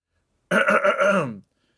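A single gruff throat clearing lasting about a second, close and distinct, followed by silence.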